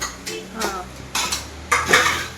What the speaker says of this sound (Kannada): ಪೂರಿ ಹಾಕಿದ್ಮೇಲೆ ಈ ಥರ ತಿರುಗಿಸ್ಬೇಕು